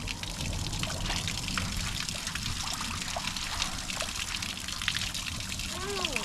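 Water runs steadily from a mountain drinking fountain on Mount Olympus, a continuous close splashing trickle heard under people talking.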